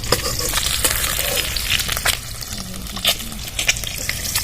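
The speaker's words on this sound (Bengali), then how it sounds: "তেলের মধ্যে একটু সর্ষে তেল দিয়ে দিচ্ছি জিরে শুকনো লঙ্কা তেজপাতা ফোড়নে দিয়ে দিলাম" Cumin seeds, dried red chillies and bay leaves temper in hot mustard oil with a loud, dense, continuous sizzle. Occasional sharp pops and light metallic clinks come through close by.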